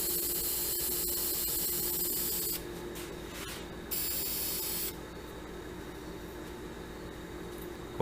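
Sanding sealer is sprayed onto a wooden pine cone box in steady hissing bursts, two long sprays split by short pauses, close and clear with no talk.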